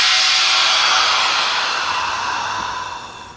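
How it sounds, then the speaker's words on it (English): Promarksvac TMC-150 vacuum tumbler letting out its vacuum pressure after marinating meat, a loud steady broadband hiss of rushing air that slowly fades over a few seconds, with no talking. "We're going to release our vacuum pressure."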